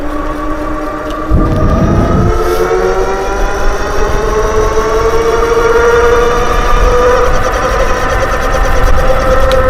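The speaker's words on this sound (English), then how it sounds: "Only some shuddering up front there with that motor, I think." EUY S4 Pro Max dual-motor electric bike riding at speed, a steady rising electric motor whine with layered tonal harmonics over continuous road and wind rumble, loud and close throughout.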